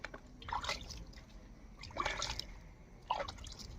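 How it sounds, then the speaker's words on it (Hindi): Water poured from a container onto flowers at a village home in Arunachal Pradesh, heard as three separate splashing bursts of trickling liquid over faint background noise. "मम्मी भी अपना फ्लावर को अभी पानी दे रहे"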